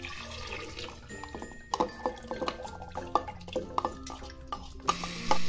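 Rice and water mixture being poured into a kitchen blender, producing a steady liquid pour with scattered clinks and drips against the jar, fairly close and alone.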